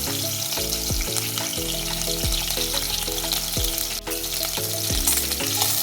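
Green chilies frying in hot oil in a pan, a steady close sizzle with repeated stirring clinks of a utensil against the pan.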